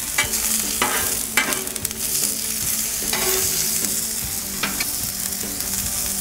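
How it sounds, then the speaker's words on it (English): Onions sizzle and fry in oil on a Blackstone griddle for a smashburger, a steady close crackle with periodic scraping and stirring strokes from a spatula, no voices. "Alright, just put down some oil. We're going to get started with these onions."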